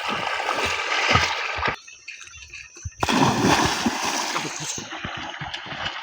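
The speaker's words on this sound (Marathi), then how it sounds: "सो चलो अभी उतरेंगे पानी में।" People plunge and splash into water, with loud, close, continuous splashing and sloshing, broken by a short quieter gap before the churning resumes.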